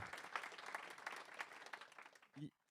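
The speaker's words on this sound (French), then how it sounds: "On peut l'applaudir, oui, tout à fait." Audience applause after a speaker's talk at a French deeptech entrepreneurship conference, moderate and steady clapping that tapers off, ending with a brief voice.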